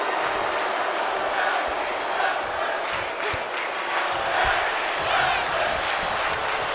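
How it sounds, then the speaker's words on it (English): A virtual arena crowd roars at a tag team wrestling match in WWE 2K23. The dense, steady crowd noise swells and dips with a few sharp thuds. "now it seems like the crowd is excited for this tag team match"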